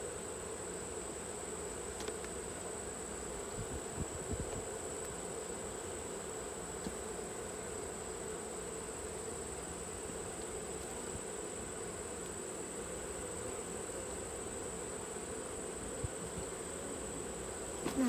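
Honey bees on a hive frame during a varroa mite alcohol-wash check drone in a continuous low, even buzz at modest volume, with a faint high steady whine alongside and no talking.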